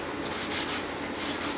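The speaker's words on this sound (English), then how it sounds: "you can do the same thing with the sanding block on the edges" A sanding block rubs along the edges of a Stanley No. 113 circular plane's iron in quick back-and-forth strokes, a soft close scratching with no voices.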